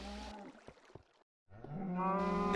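Cows from a farming video game mooing after being fed, with low drawn-out bellowing calls heard near and loud, a gap of near-silence between them and a final long moo.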